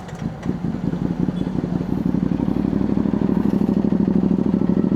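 A CFMoto 450SR motorcycle idles as it warms up, its engine close and loud with a steady, fast chugging pulse and a faint mechanical clatter, running without a break.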